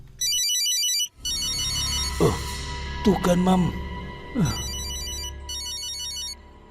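A mobile phone rings loudly with a repeating electronic ringtone in short patterned bursts, pausing while people talk and exclaim in the middle, then ringing again.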